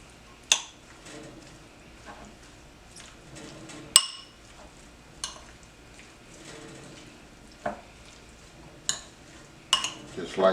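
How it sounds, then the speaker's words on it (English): Jalapeno and tomatoes for pico de gallo being stirred in a bowl, with a handful of sharp clinks and scrapes of a utensil against the bowl spaced a second or two apart over quiet background. "I'm gonna mix this up."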